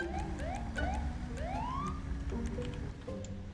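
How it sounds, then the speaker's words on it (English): A video game police siren on a pickup truck wails in rising, repeating sweeps, then shifts to a steadier tone, with a low engine rumble underneath. "Do they put sirens in this big pickup truck?"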